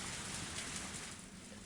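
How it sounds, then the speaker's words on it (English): Steady rain falls as ambient sound in the Higurashi video game, a soft, even hiss of drops with no voices. "The rain counts as music?"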